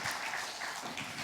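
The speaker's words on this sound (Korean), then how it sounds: "하나님 앞에 영광의 박수 올려드리겠습니다." A church congregation claps during a Palm Sunday worship service, a brief, soft wash of applause that sounds distant and diffuse throughout.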